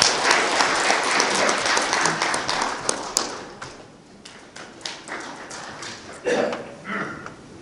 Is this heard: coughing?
no